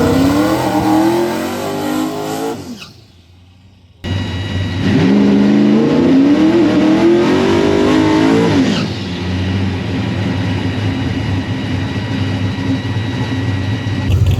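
A no-prep drag race car launches hard off a 4,600 rpm two-step at a show-and-go event, its engine roaring loud and close, briefly cutting out, then screaming up through the gears before settling into a steady distant drone.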